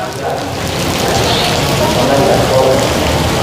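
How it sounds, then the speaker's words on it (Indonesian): Loud, dense downpour drumming steadily on surfaces nearby during a commuter train trip between Yogyakarta and Solo, a constant hiss with a voice speaking beneath it. "Kondisi hujan deras sekali."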